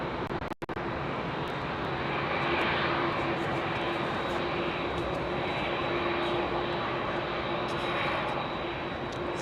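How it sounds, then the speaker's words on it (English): At Heathrow, a Cathay Cargo Boeing 747-8F with Trent engines departs as a broad, steady roar of jet engine noise. It sits at moderate distance and holds throughout with no talk. "it always sounds fantastic because it's powered by Trent 700s"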